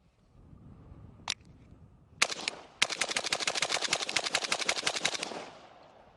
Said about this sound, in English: Now I'm going to try to fire them as fast as I can.